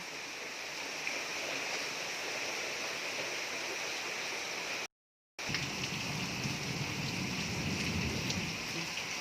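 Steady, dense rain pours down outdoors, a continuous hiss that cuts out briefly midway and then returns just as heavy.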